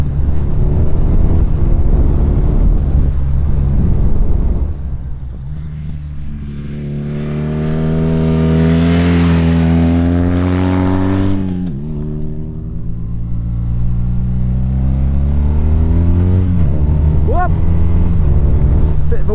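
A BMW R nineT boxer-twin motorcycle engine revving up through the mid range while riding, a steady drone rising in pitch then easing off, loud and close with wind rush.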